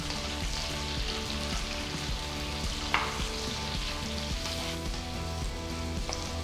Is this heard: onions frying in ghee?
yes